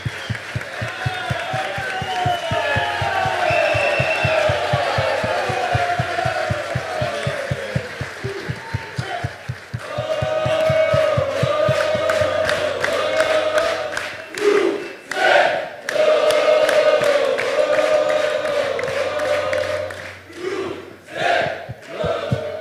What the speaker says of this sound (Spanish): pedir os aplausos de vocês para as nossas atletas Barbieri, Corina, Isa e Tati